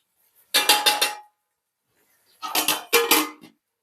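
A metal lid is set onto a cooking pot of onions, tomatoes, green chilies and ginger paste for fish curry, making two short bursts of rattling metallic clatter separated by a quiet pause.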